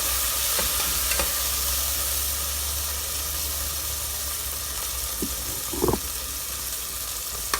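Beef curry with tamarind being stirred in a pan: a steady sizzling hiss with a low background rumble and a few brief scraping knocks near the end, no voices.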